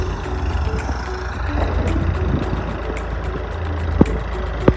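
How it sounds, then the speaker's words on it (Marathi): A Sonalika 744 tractor with a 50 HP engine runs at a steady, loud low rumble close by, with a few sharp knocks and clicks over the drone and no speech. "त्याने स्वतःच ट्रॅक्टर घेतला सोनलिकाचा 744 ट्रॅक्टर आहे, मोठा आहे, 50 HP आहे."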